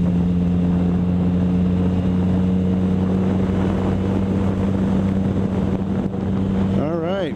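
A 2014 Yamaha FZ-09 motorcycle engine drones steadily while riding, with strong wind rush over the microphone and a slight rise in revs near the end.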